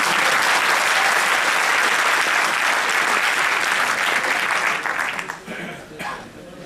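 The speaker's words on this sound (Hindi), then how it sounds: "एक बार और बजा दीजिए ताली।" Audience applause in a Bhopal auditorium at a talk on internal security, steady and dense for about five seconds, then thinning out and dying away, with a faint voice starting to speak near the end.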